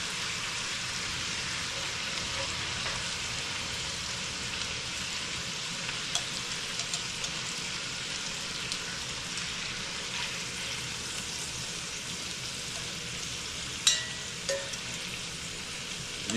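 Seared oxtails sizzle in a hot pan, a steady, even hiss of frying that runs throughout with a few small pops near the end and no talking.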